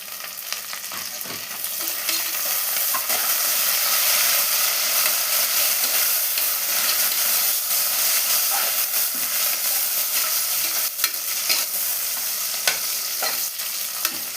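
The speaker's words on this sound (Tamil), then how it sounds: "இப்போது நான் புதினாவை சேர்த்து வதக்கிக்கிறேன்." Onion, green chilli and mint sautéing in a hot pan, a broad steady sizzle and hiss that swells after a couple of seconds, with occasional scrapes of a spoon stirring through it.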